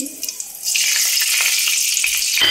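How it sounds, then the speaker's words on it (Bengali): Whole cloves and cardamom pods tempering in hot mustard oil for a Bengali fish curry, a brief crackle that swells into a loud, close, continuous sizzle with no talk. "লবঙ্গ, এলাচ ফোড়ন দিচ্ছি।"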